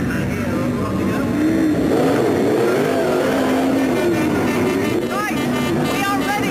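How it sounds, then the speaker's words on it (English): Race car engines at Rockingham during the Days of Thunder 2004 Round 9 event fire up and rev loudly, with rising and falling engine tones layered together and a brief higher-pitched rev burst near the end. "Gentlemen, start your engine!"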